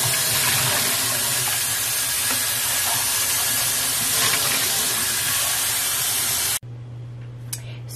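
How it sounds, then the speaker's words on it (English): Running water pours steadily into a pot, rinsing salted codfish for fritters, making a loud continuous spray and hiss for several seconds before stopping abruptly, leaving a quiet hum. "I'm gonna take the pack of codfish, I'm gonna open it, put it in the pot, and rinse it one time"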